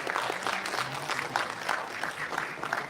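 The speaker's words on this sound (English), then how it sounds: "So I think this hall should applaud the work done by the" A conference hall audience applauds at a valedictory session with steady, dense clapping that fills the whole stretch at moderate volume and no clear voices above it.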